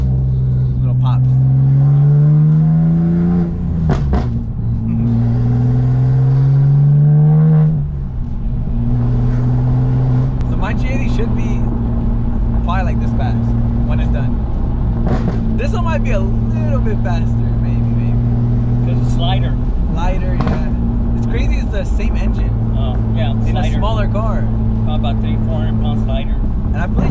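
An 800hp BMW M2 engine drones steadily from inside the car, rising and dropping once early on, with scattered short exhaust crackles and voices talking over it.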